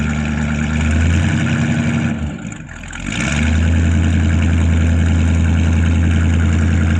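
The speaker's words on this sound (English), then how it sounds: "give it a little bit of throttle. You know, the mufflers ain't real loud type mufflers" A 1972 Chevy K10 pickup with quiet mufflers idles loudly and steadily up close, its deep rumble dipping briefly for a moment before settling back to an even throb.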